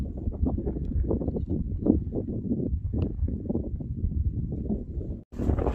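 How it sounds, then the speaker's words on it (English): Wind buffeting a microphone on a Pacific Crest Trail hike, a continuous low, rumbling roar with irregular gusty pulses, close and loud, cut briefly by a sharp dropout near the end. "really windy"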